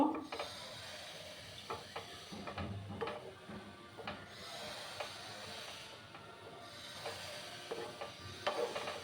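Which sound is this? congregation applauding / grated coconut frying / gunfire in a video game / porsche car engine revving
grated coconut frying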